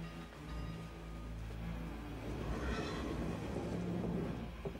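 A moving train heard from inside a passenger car on the line toward Galatz: a steady, continuous low rumble and rolling noise that stays loud and even throughout, with no voices.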